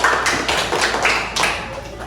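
Children in a primary school classroom clap for a classmates' group, a brief burst of close, uneven hand claps with tapping accents, loud and alone without talk.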